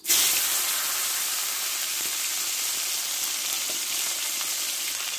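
Dry red chillies, whole cumin, a bay leaf and tomato hit hot oil with a loud, sudden burst of sizzling that settles into a dense, steady hiss, close and uninterrupted.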